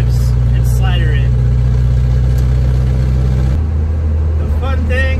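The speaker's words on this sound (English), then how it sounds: "So you'll hear me sometimes do a double pump, and I'll try matching the revs and slider it." A built 2.6 engine in a 1979 Plymouth Arrow truck drones loud and close, with the revs falling and rising during a double-pump rev-matched shift while someone talks over it.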